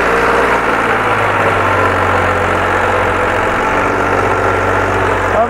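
A Powertrac 439 Plus tractor engine roars steadily and loudly up close, laboring under heavy load climbing uphill with a constant low throbbing drone.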